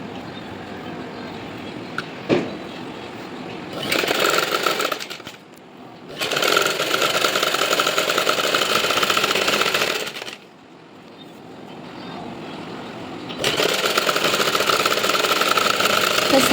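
Sewing machine stitching the border of a silk saree blouse, running in several sustained bursts of whirring motor and needle noise separated by short pauses, loud and close with no talk.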